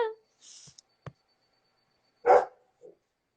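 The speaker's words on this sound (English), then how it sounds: "O cachorro começou." A dog gives a few separate short barks in a quiet room, spaced irregularly with gaps of silence, one louder bark standing out near the end.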